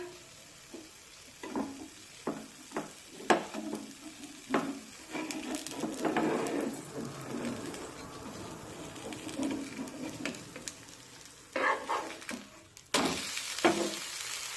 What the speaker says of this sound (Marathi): मंद आचेवर दोन्ही बाजूने हे धिरडं छानपैकी भाजून घेऊया